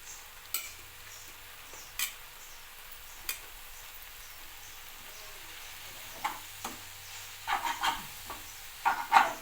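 A spoon stirs fenugreek leaf curry in a pan over a soft, continuous sizzle, with scattered scraping clicks that grow busier toward the end, no voices.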